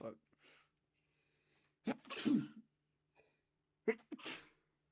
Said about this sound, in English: I'm gonna sneeze, man.